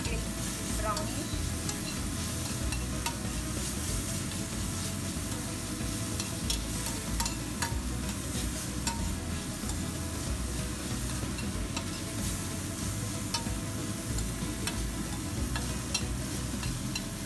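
Onion sizzling steadily in a hot pan for a Taiwanese-style dinner, with continuous frying crackle, occasional scraping and ticking of the stirring utensil against the pan, and no talking.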